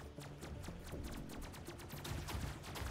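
Rapid bursts of gunfire from robot mechs battling in the video game Robocraft, a dense continuous volley of shots with no talk over it.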